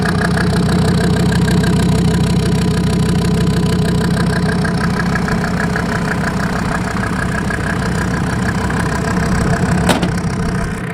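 A Mercedes-Benz S-Class converted to a diesel off-roader idles loudly and steadily at close range, its diesel clatter pulsing evenly throughout.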